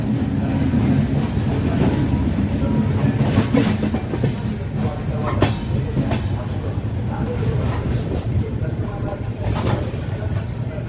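Duranto Express train running with a steady rhythmic clickety-clack and low rumble throughout, heard from close by, with faint talk in the background.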